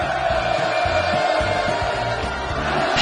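Large crowd at an evening inauguration ceremony for the Wonsan Kalma coastal tourist zone in North Korea roars in sustained, steady cheering, a dense wash of voices with no pauses.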